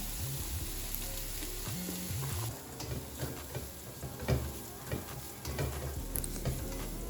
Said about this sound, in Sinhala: කැරට් ටිකයි ගෝවා ටිකයි හොඳට තෙම්පරාදු වුණාට පස්සේ